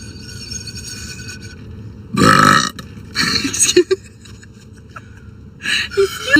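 A girl lets out several loud, ripping burps in short bursts, close to the mic, with friends chatting and laughing around her between them.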